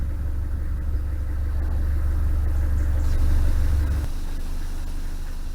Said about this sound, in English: I thought I'd turn the engine over to make sure that it was running alright.